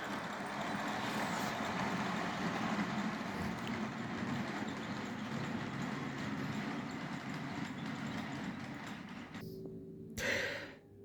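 A Piko model train of an SNCF BB 67000 locomotive running on its track, giving a steady, close whirring rumble for about nine seconds before it stops, then a short burst of noise. No one speaks.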